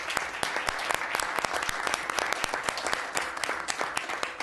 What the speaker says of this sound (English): we've just violated one of the rules of council, which says that there should be no clapping or outbursts